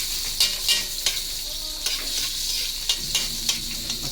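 Tomatoes sauté in a pan for a Filipino monggo dish, with a steady bright sizzle broken by several sharp scraping stirs of the utensil against the pan.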